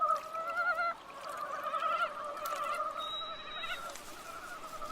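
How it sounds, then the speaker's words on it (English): Frogs give overlapping honking mating calls in a forest at night. The calls are steady and nasal and stand out clearly over a constant wash of background noise. "As night falls, a serenade of mating calls fills the forest."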